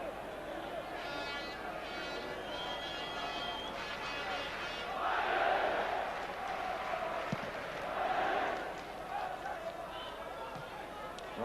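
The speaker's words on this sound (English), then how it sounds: "A ripple of applause right round Old Trafford for Mark Hughes." A football crowd at Old Trafford during a Manchester United versus Liverpool match gives a ripple of applause, a distant, steady stadium murmur that swells twice, under a commentator's voice.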